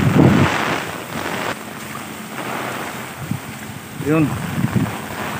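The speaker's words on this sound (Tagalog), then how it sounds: "Grabe yung ulan sa kahangin" Strong Typhoon Ulysses wind and rain roar in a loud, constant wash, buffeting the microphone, while a voice speaks briefly over it.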